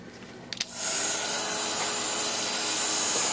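A Ranger Heat It craft heat tool switches on after a couple of small clicks and then blows with a steady, loud, hissing whoosh of hot air that holds without a break.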